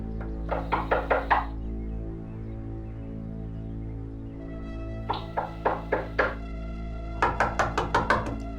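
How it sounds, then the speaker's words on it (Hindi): Someone knocks urgently on a door in a domestic drama, three separate bursts of four to six quick, sharp raps with short pauses between them, over a low steady hum. "अलमास, अलमास, दरवाजा खोलो जल्दी।"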